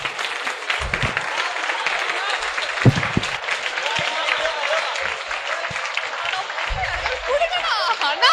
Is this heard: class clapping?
yes